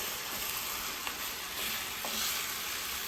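Ground farm beef browning in a pan, a steady close sizzle with a few faint scrapes as it is stirred and broken up, no voices.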